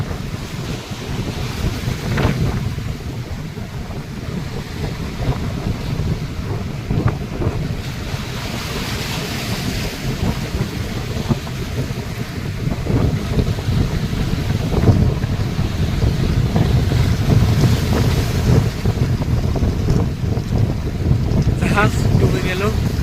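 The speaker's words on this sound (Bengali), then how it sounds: "এই জাহাজের উপর কিভাবে ঢেউ খেলছে বঙ্গোপসাগরে, যে উত্তাল সাগর, সেই উত্তাল সাগরের ঢেউ।" Rough sea in the Bay of Bengal during Cyclone Remal, with heavy surf and wind churning around a scrap ship wreck; a continuous loud roar of waves and wind gusts runs throughout, and there is no clear speech.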